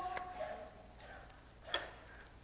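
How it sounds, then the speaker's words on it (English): Garlic and onion fry with sesame seeds in a pan, a faint sizzle with a few short clinks and stirring sounds. "there's nothing better than garlic and onion frying"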